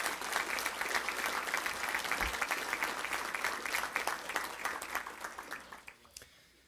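A banquet audience at a football awards dinner gives sustained applause, with many hands clapping densely and evenly before the sound thins out and fades at the end.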